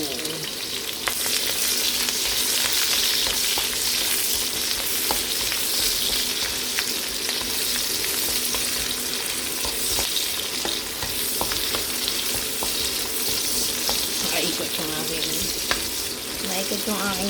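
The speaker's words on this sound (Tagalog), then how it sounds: "Isa natin ang bawang sibuyas." Garlic and onion sauté in oil in a pan, a loud, dense, continuous frying hiss with scattered clicks and scrapes of stirring, close up and steady throughout.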